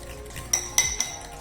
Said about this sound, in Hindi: क्रीम को और जेली को अच्छी तरह मैं फेंट लूंगी